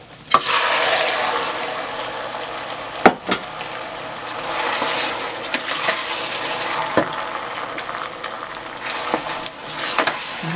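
Okra frying in oil in a pot on a stove, a steady hiss and sizzle with occasional sharp clinks and scrapes as it is stirred, close and fairly loud.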